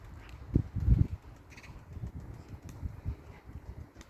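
A pigeon drops in diving over a building, with a few close, loud bursts of wing flapping early on, then softer fluttering and rustling over low background noise.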